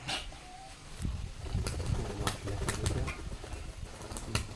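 Rajshahi Giribaz pigeons coo softly and beat their wings in irregular bursts against a steady background hiss, close to the listener.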